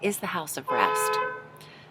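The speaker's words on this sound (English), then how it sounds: "Sorry for that beeping." A car horn sounds in a sustained honk over a person talking, the tone holding steady before fading out.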